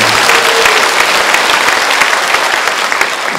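A church congregation at an elders' couples retreat gives loud, full applause, sustained many-handed clapping that fills the room evenly from start to finish.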